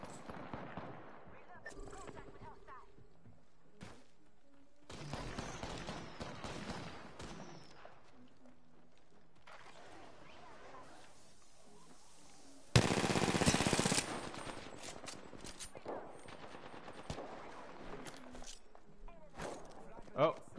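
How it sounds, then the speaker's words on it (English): Video game gunfire crackles in scattered bursts, including a loud sustained automatic volley midway, over a quiet background with footsteps and occasional talk. "He's shooting."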